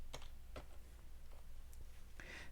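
A handful of quick computer keyboard keystrokes tap out a Linux terminal command, faint and close, scattered irregularly over a low steady hum with no voices.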